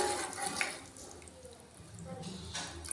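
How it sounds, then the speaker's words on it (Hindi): Gram flour dissolved in water is poured into a simmering kofta curry, making a faint, steady liquid pour with a brief splashy swell near the end, under low background noise. "ये मैंने 1 चम्मच लिया था बेसन, उसको मैंने पानी में हल कर लिया और अब हम इसमें डाल देंगे।"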